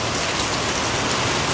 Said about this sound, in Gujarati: એમ તો વરસાદ ચાલુ છે ને